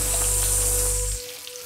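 Fish coated in pepper masala fries in a pan, giving a steady, close sizzling hiss over a low hum that cuts off near the end.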